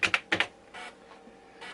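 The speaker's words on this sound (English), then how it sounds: "So if we type mem," Keys clacking on a Tandy 1000 computer keyboard as a short command is typed: four quick sharp clicks in two pairs, then softer key presses, close and alone.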